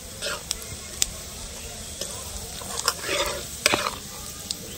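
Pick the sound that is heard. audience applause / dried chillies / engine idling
dried chillies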